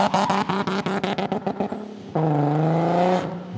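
A supercharged Nissan 370Z engine rises through a rapid series of pulsing rev bursts, then settles into a loud, sustained, smooth drone as the car pulls away and accelerates, heard up close.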